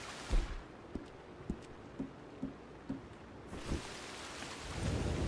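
Thunderstorm in the video game Red Dead Redemption 2: rain hisses steadily while a series of low thunder rumbles and cracks repeats roughly every half second to second, the downpour swelling louder and closer near the end.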